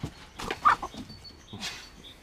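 Hens cluck softly in short, irregular bursts, with a faint higher chirp or two, fairly close and quiet.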